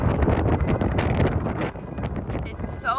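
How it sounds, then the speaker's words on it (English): Strong wind buffets a roadside spot where a stranded car has pulled over, a loud gusty rush roaring over the microphone for about three seconds. "It's so windy."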